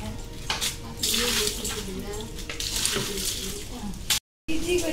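Water sprays steadily as a scooter is washed with shampoo, a continuous close hiss and splash with brief changes in flow and a sudden short cut near the end.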